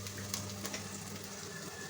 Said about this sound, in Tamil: இஞ்சி பூண்டு ஸ்மெல் போகிற வரைக்கும் போட்டு வதக்கிட்டு